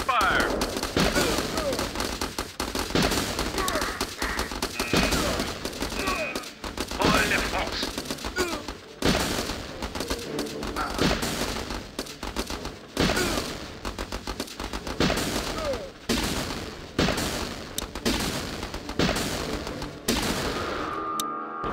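Video game battle gunfire in Battle Islands Commanders, rapid machine-gun bursts and repeated shots rattling loudly and continuously, mixed with booms, with no pause across the stretch.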